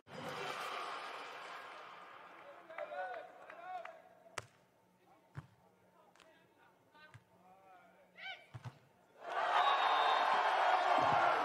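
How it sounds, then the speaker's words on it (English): A stadium crowd at a Rome 2022 beach volleyball pool match between Italy and Germany roars loudly at the start, quiets under a commentator's voice and a few sharp ball hits, then surges back into loud, sustained cheering. "Crowd engaged again."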